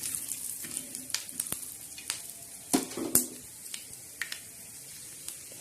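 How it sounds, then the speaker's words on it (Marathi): Peanuts roasting in a pan, heard as a soft continuous sizzle and hiss with scattered light clicks and scrapes from stirring, one louder scrape partway through, and no talking. "मग ते चांगले लाल असे शेंगदाणे भाजून घ्यायचे"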